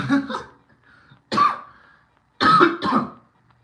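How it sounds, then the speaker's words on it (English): Three bursts of coughing, close and loud, with short quiet gaps between them; the last is a double cough. "my cough is getting really bad."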